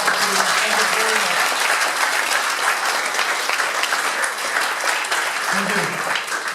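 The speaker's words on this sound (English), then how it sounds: "let's give them a huge round of applause" A crowd at a Startup Weekend event in Riga applauds steadily and loudly for several seconds, dense clapping filling the room while a voice speaks briefly over it.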